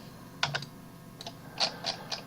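Keys on a computer keyboard are pressed in a few separate clicks and a short cluster of taps, close and distinct against a quiet room, with no talking.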